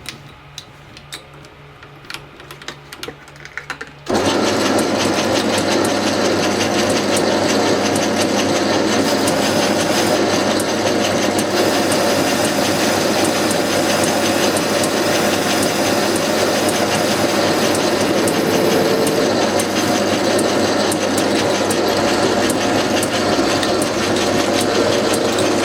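A Sieg C6 lathe machines a backplate for a 165 mm chuck. After a few quiet seconds, a loud, steady whir of the motor and cutting starts and runs unbroken to the end, with no talk.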